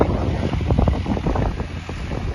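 Strong wind buffets the microphone on an open Punjab farm field, a steady roaring rush with low rumble and no clear breaks, loud and close throughout.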